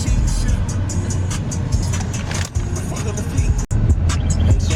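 Steady road traffic noise from cars passing on a busy road, a continuous broadband rush heard from inside or beside a vehicle, with talking over it.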